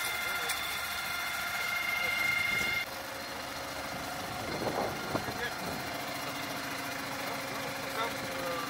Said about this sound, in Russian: Идет трактор